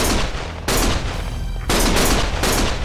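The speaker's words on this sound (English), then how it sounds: "Stop shooting!" Loud, dense gunfire from the video game Lost Judgment: rapid bursts of shots fill the stretch, pausing briefly before another sustained volley erupts, with no talk heard.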